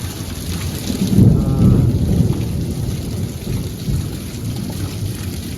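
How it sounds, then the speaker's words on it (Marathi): A thunderstorm with steady heavy rain pouring down, a low rumble of thunder swelling early on before fading under the constant downpour. "पाच वाजल्यात पण ढग एवढे गडगडतात आणि काळोख करून पाऊस दिलो"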